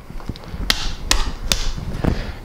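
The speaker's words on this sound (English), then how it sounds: "Grab your bar ends, place them on, just go ahead and hit them in." Bar ends are hammered into pro scooter handlebars with three sharp, evenly spaced knocks about half a second apart, loud and close, followed by a softer fourth tap.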